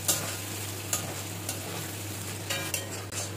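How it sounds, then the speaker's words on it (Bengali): A spoon stirs whisked sour yogurt into a kundri curry in a pan over a steady sizzle, with several soft scrapes and clinks at irregular intervals and no talking. "মিশিয়ে দেব টক দইটা"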